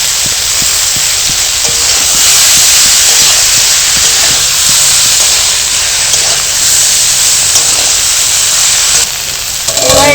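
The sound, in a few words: chillies spluttering in hot oil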